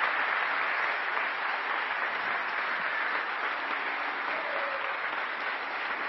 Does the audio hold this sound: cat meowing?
no